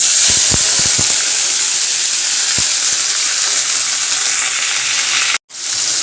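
Loud, continuous sizzling and hissing of rice frying in a pan with onions, tomatoes and green chilli, with a few low knocks early on and a brief sudden gap near the end.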